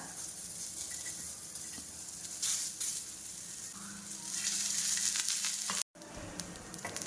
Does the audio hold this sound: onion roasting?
yes